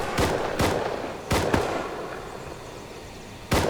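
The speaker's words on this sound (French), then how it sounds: "j'entends des coups de feu pas très loin" Gunshots ring out in the video game Rust, a handful of sharp cracks at irregular intervals, two close together near the middle, each with a short echoing tail over a low ambient hum.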